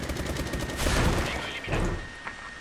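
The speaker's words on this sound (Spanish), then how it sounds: "Disparo en la cabeza." Rapid bursts of gunfire in S.K.I.L.L. Special Force 2 team deathmatch on the Hangar map crackle in dense volleys, with heavier booming shots and a faint tonal hum underneath, loud and close.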